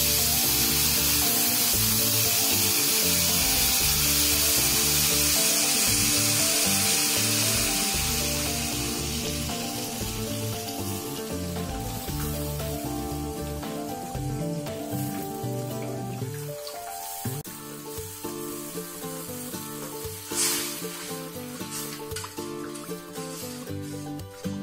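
Curry leaves and tamarind water go into a pan of sizzling Salem-style fish gravy, giving a loud, steady hiss that settles into a softer bubbling crackle.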